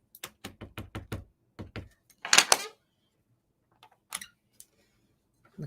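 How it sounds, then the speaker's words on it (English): Rubber stamp pressed onto a card during die-cut card making: a quick series of sharp taps and knocks on a tabletop, close and dry, followed by a short rustle and a few scattered thumps. "Stamp it one more time for good measure."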